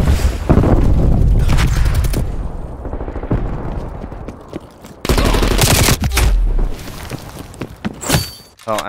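Bursts of gunfire from a multiplayer shooter game, Stockpile, with rapid fusillades and loud cracks in two main stretches separated by a quieter gap, close and dense, with a brief stray voice.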